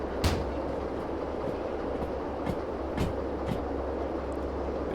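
Three connected trains roll along rails in a video game with a steady low rumble and a few sharp periodic clicks. No talking is heard over it.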